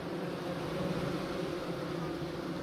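Honey bees packed inside a hot, crowded hive give off a thick, unbroken buzz, close and steady, with a low droning hum and no voices.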